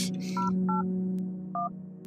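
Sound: telephone number dialing tones in video game Strange Telephone

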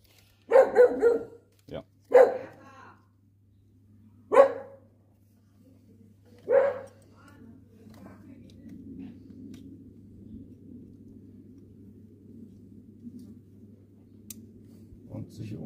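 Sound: dog barking

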